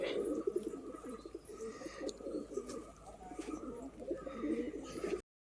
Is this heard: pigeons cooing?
yes